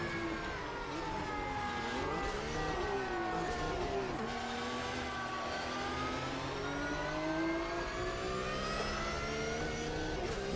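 A GT4-class race car engine in the Automobilista 2 racing game drones steadily throughout, its pitch rising and falling with gear changes and revs, loud and continuous with no voices.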